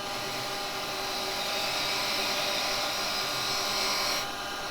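A woodturning lathe spins steadily while a chamfer is cut on a small wooden handle. Its whirring drone stays continuous and close, with a brief change in tone near the end and no speech.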